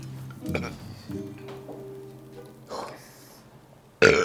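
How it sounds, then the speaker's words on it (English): A few low, guttural burps spaced across the clip, with quiet breathy noises and a sharp clatter at the end. "Oh my god, I can't stop burping."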